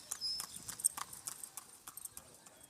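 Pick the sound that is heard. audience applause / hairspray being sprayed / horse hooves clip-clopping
horse hooves clip-clopping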